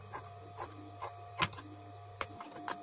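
A sewing machine stitching a katori blouse, its motor humming steadily for about two and a half seconds with faint clicks and taps, then stopping; quiet and close, with no talking.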